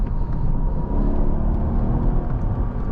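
A 2017 Mercedes-Benz CLS 550 accelerates smoothly, heard from inside the cabin as a steady low engine rumble and whirring road hum, unbroken and even throughout.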